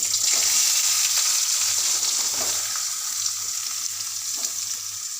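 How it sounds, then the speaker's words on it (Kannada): Onions hissing and sizzling in a hot pan for a dosa side dish, a loud steady fry close up that eases slightly after the first second. "ಫಸ್ಟ್ ಈರುಳ್ಳಿ ಹಾಕ್ಕೊತೀನಿ"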